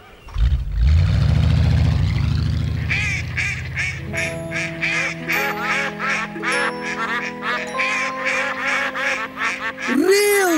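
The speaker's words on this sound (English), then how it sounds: "Real ducks." Real ducks of several breeds, including Barbary, Danish and Golden Cascade, quack and honk in a loud rhythmic series of calls, with an engine-like rumble at the start and a soft meow-like sound near the end.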